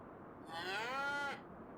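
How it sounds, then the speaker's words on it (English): A single cow lets out a rising and falling moo of about a second inside a barn, close and clear over quiet background noise. "We should have all our cattle in this barn here."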